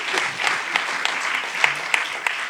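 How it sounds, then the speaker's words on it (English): Audience applause in a Berlin hall after a film panel discussion, a steady dense clatter of clapping with a few sharper claps standing out, fairly close and without talk. "Please applaud."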